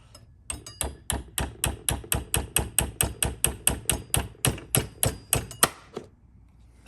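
Repeated hammer whacks strike the latch of a BEST 30H mortise lock, about twenty sharp, evenly spaced blows ringing close and loud in quick succession, ending with a brief pause and one last knock.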